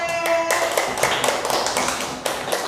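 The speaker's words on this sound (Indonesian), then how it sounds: "Tepuk tangan untuk kelompok B." A classroom group claps to honour group B after its presentation, a dense patter of many hands rising sharply and sustained throughout at close range, with no talk over it.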